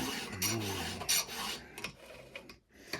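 A hand file rasps across chainsaw teeth to sharpen them, several close, gritty strokes in quick succession with brief pauses between them.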